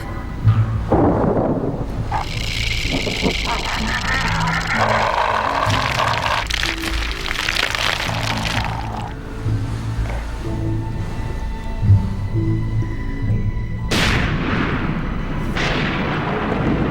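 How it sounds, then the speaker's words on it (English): Deep, heavy thunder from an afternoon Amazon rainforest storm rolls and rumbles continuously, with sharper cracks breaking through, loud and close. "Storms build up every afternoon"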